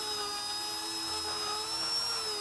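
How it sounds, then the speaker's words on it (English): A small Dremel rotary tool fitted with a stainless steel wire brush, cleaning corners during jetski paint prep, gives off a steady, high-pitched whine that holds at a constant speed up close for the whole moment. "I'll just grab a little Dremel with a stainless brush on it, and I'll get in here and clean all my other corners"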